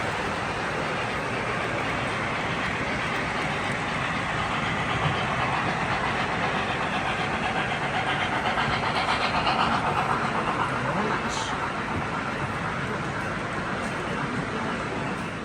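An O scale model train engine runs along the outer track of a hobby club layout, a steady continuous rumble with faint rail clatter, close and even throughout with no talk.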